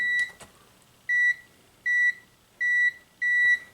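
Multimeter continuity tester beeping during a pinball machine board repair: four steady high-pitched beeps, each about a quarter second long, evenly spaced near the microphone with quiet pauses between and a faint click at the start.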